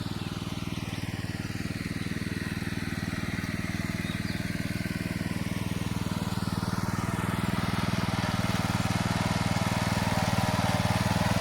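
A tractor engine drones steadily and close by as it works a rain-soaked field for sowing on a Konkan morning. The running note holds even for the whole stretch, with no talk over it.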